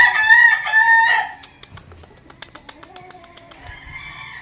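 A Philip Holloway Yellow-Legged Dutch rooster crows loudly and close at the start, then scattered clucks, pecks and small knocks follow.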